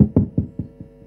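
Five knocks rap on a car window in an evenly spaced series, each a dull, close thud that fades slightly as the knocking goes on, with no voices.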